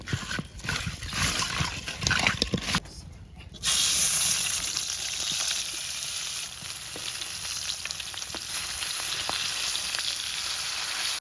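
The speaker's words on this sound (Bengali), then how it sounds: "এখন মোরা হলুদ আর লবণ দিয়ে মাছটারে মাহাইয়া তেলে ভাইজেল মু।" Hilsa fish coated in turmeric and salt frying in hot oil, a steady close sizzle and crackle that turns louder and denser partway through, with scattered sharp pops and no talking.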